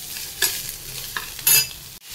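Sauce is stirred into a sandwich filling frying in a pan, with a soft steady sizzle broken by a few sharp scrapes of the spoon against the pan. It is close, with no talking.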